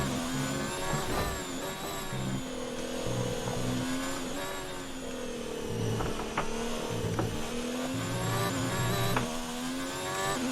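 A Formula 1 race car in the F1 2019 game screams continuously at high revs, its engine pitch rising and dipping through gear changes and corners, loud and steady throughout with no talk.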